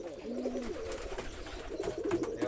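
Several pigeons of the giring type cooing repeatedly in courtship, a steady nearby rolling coo that runs through the whole stretch with no talk.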